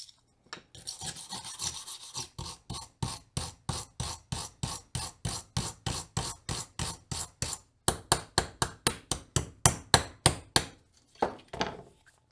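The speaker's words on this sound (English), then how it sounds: "So I'm going to try the very harsh bristle brushes now." A very harsh bristle brush scrubs back and forth over a freshly painted Aethos bike frame, making rhythmic scratchy rasping strokes that quicken toward the end, close up with no voices.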